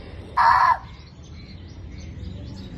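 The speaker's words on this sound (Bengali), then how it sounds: "ওইটা কাকটা দেখো" A crow caws once, a short, loud, harsh call close by, over the quiet open-air background of a playing field where a Durga Puja is held.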